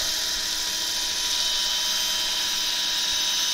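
A turned wooden bowl cut from a gnarly crotch section is sanded as it spins on a lathe, giving a steady, loud, high-pitched whirring hiss that holds unbroken throughout with no voices.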